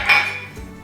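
A utensil stirs taco seasoning into food in a pan in one brief, bright metallic scrape, close up and alone.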